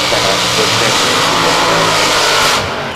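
Drag race cars roar at full throttle through a qualifying session at the ANRA 2008 Spring Nationals, a loud, sustained, dense engine blast that holds steady for about three seconds before easing slightly at the end.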